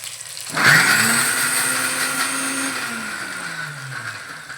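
Kitchen mixer grinder grinding coconut for fish curry: the motor whirs up sharply to a loud steady whine, its pitch sagging slightly under load before easing down near the end.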